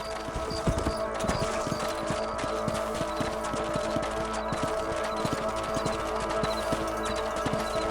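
Horses clip-clop at a steady riding pace in the Red Dead Redemption video game, with dense, rhythmic hoofbeats close and loud throughout.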